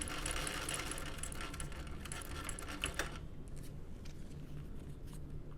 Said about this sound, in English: we're going to sew across the top edge 3/8